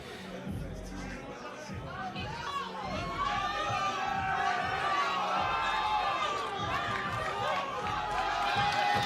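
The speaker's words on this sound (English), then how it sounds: "lot of action and noise here from the crowd for Kurdistan's own" Crowd chatter and shouting at a fight swell into a busy roar, with people talking over the noise and excited voices rising toward the end.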